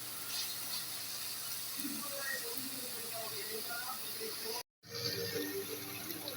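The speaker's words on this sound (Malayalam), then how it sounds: "അതിലേക്ക് കുറച്ച് വെള്ളം ഒഴിച്ചു" Water poured into a hot frying pan while cooking pasta gives a steady, close hissing sizzle that runs nearly throughout, broken by a brief silent gap near the end.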